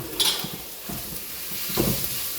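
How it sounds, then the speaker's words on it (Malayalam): Onion, green chili and garlic sauté in a pan with a soft steady sizzle, while a spoon scrapes and stirs in a few brief knocks close by. "ഉള്ളി, പച്ചമുളക്, വെളുത്തുള്ളി മൂന്നും കൂടെ ഒന്ന് വഴന്ന് വെക്കാം."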